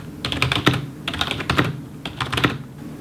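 Typing on a Razer Cynosa V2 RGB gaming keyboard with soft membrane keys, three quick bursts of muted, rapid keystrokes, close up and fairly quiet, with no talking.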